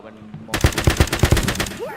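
Gunfire in Valorant: a rapid, loud burst of about eight shots in a quick rhythm, starting sharply after a quiet half-second and ending in a short trailing tail.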